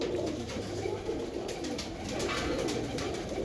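Soft, repeated low cooing from a pigeon close by, rolling calls over a hushed background with faint hiss, while its wing is being stitched.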